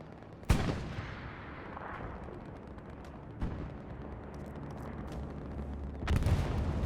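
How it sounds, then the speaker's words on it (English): Aerial bombing in the WWII shooter Hell Let Loose, set in Tobruk, strikes a garrison: sharp heavy blasts stand out at the start and midway, a sustained low rumble runs beneath, and a loud roaring explosion closes it. "ESPT bombing run over the garrison"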